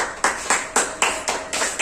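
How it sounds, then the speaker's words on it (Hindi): Brief burst of applause welcoming a guest at a school parents' session, several sharp rhythmic clap bursts roughly every quarter second, fairly close and loud, with no talking. "तो आइए जोरदार ताली के साथ हम दिनेश सर का अभिनंदन करेंगे"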